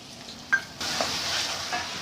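Red chili paste added to a hot pan and stirred, a soft scrape followed by a sudden swell into continuous sizzling.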